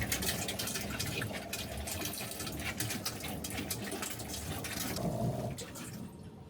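Water gushes steadily out of a leaking motorhome's tank as it is drained, a continuous close rushing flow that holds for several seconds before trailing off at the end.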